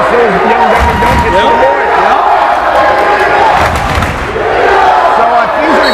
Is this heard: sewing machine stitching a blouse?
no